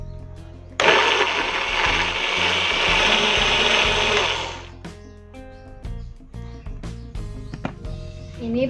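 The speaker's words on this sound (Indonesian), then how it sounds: "kita tambahkan sedikit air untuk memblender." A blender roars loudly for a few seconds blending spices with water, then cuts off, followed by scattered clinks, taps and handling noises.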